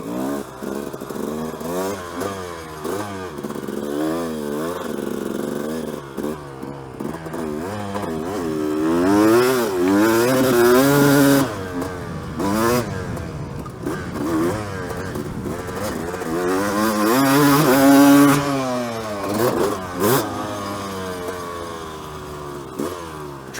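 Suzuki motorcycle engine fitted with a Lectron Pro Series carburetor, revving repeatedly from idle to sharp, rising bursts and falling back, loud and close with mechanical clatter between throttle blips.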